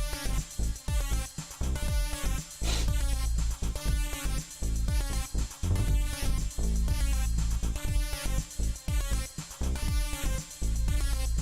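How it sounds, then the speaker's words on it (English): Mai Tai synth arpeggiator playing an attack-heavy key pad patch, a dense, loud, rhythmic stream of pulsing synthetic notes over a deep bass, running continuously with no voices. "So now your sound that you had on the arpeggiator earlier on now sounds a bit like this."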